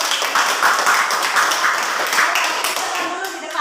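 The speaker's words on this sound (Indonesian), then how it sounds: "Mari kita berikan tepuk tangan." Classroom audience clapping after a group presentation, a brisk burst of hand claps from a small group that fades slightly toward the end, with some voices mixed in.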